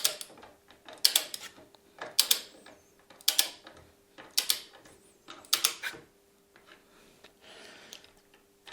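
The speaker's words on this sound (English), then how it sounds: "I'm going to screw in this one as well a little bit." A ratchet tightens screws on Fehling engine guards of a Tracer motorcycle, giving crisp close-up bursts of rapid clicking roughly once a second with short quiet gaps between strokes.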